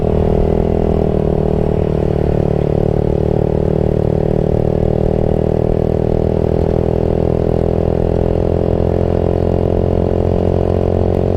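Yamaha Vixion motorcycle engine that stalled and is being step-pushed, a loud, close, continuous mid-pitched engine drone with a rough clattering edge, steady throughout without any break.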